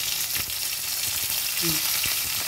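Tomatoes added to softened onions sizzle and fry steadily in a pan, a constant close crackle with faint stirring and no talk.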